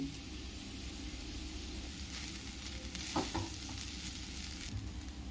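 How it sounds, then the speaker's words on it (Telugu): Rice being stirred into fried carrot and potato pieces in a pan, giving a soft continuous sizzle with a few scraping stir strokes, close and steady, no talking. "ఇప్పుడు ఇందులోని రైస్ వేసుకుని బాగా కలుపుకోవాలండి"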